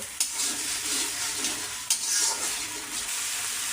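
Spices for a Bengali beef and potato dish stir-fry in a pan, a continuous close sizzle broken by a couple of sharp scrapes of the spoon against the pan, with no voices.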